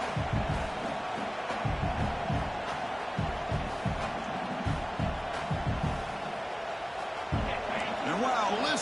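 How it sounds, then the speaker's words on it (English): Stadium crowd roar in an NCAA 26 college football video game, Clemson at UCLA, a loud sustained rumble of cheering with rhythmic thumping pulses and scattered whoops, mixed with broadcast-style speech. "listen to this crowd noise. This stadium is vibrating."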